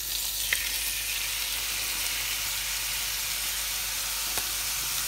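Chopped spring onions and tomatoes sizzling in a pan, a steady close frying hiss with a couple of faint clicks, no talk.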